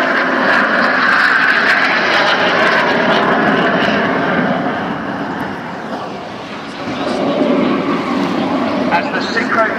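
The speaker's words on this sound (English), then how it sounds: "With the smoke on is a low jet." A low-flying display jet trailing smoke at a seaside airshow in Portrush roars loudly overhead, a sustained engine rumble that dips briefly in the middle before swelling again as the aircraft passes.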